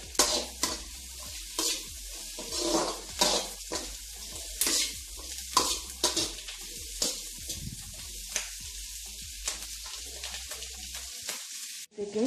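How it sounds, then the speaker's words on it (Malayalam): Chilli chicken sautés in a hot pan, a steady sizzle running under repeated close stirring and scraping strokes, with the frying noise dropping away near the end. "അത് ഇട്ടിട്ട് നമുക്ക് ഒന്ന് ജസ്റ്റ് ഒന്ന് വഴറ്റി കൊടുക്കാം"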